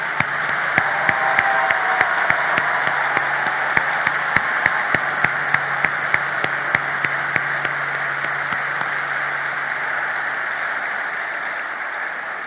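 Applause rises at a graduation ceremony in Port-au-Prince as a steady, hissing wash of many hands. It is fairly loud and even throughout, with a string of sharp regular clicks running across it.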